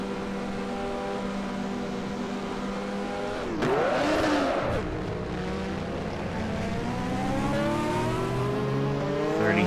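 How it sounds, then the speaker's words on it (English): Race car engines in the NASCAR Racing 2003 video game drone steadily, with a sharp roaring surge partway through that sweeps down before the whine climbs again, loud with no voices. "Start your engines!"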